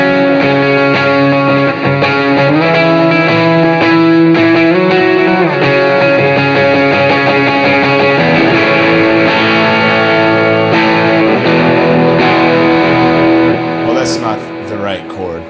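Electric guitar lead line played through a Line 6 POD HD500x HWY100 patch: loud, heavily distorted sustained notes with bending pitches and effects coloring, continuous for about fifteen seconds, then tailing off.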